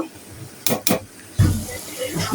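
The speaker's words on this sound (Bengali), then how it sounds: "ভালো করে কষিয়ে নিব দেখেন চারপাশে কিন্তু তেল ছড়ে গেছে" Small fish being stir-fried in a pan with chili, two quick scraping stirs of a utensil followed by a steady oily sizzle, close and fairly loud.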